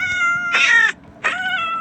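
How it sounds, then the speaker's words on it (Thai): A cat in a video game gives two drawn-out, whiny meows close by, the second one shorter, over a faint steady background hum. "คือแมว"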